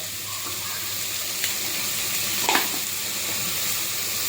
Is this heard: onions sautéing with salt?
yes